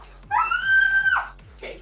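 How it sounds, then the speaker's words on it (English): A person lets out a sustained, high-pitched scream lasting about a second during an online board game session. A brief shorter cry follows it, over a low steady hum. "Can you not scream?"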